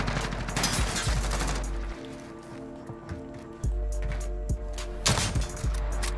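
Gunfire in the shooter game Modern Warfare, including sniper shots: sharp, loud cracks and bursts of shots over a steady low rumble of game sound, with no talking.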